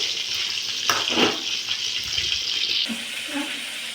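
Dried salted fish frying in a pan gives a continuous close sizzle with occasional stirring and spattering bursts, fairly loud and steady throughout, with no talking.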